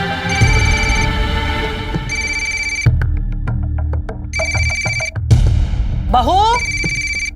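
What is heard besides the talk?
telephone ringing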